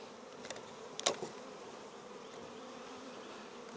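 Honeybees from a swarm buzz steadily in a dense, continuous drone during a hive transfer, with a few louder bees passing close by and no voices.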